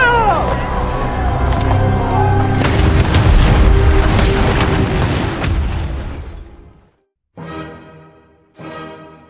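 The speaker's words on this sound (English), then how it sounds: "Grape shot tears through the mob." Artillery cannon fire with grapeshot, heavy booming blasts and rumbling bursts rolling together, loud and close, then fading before two shorter sharp reports at the end.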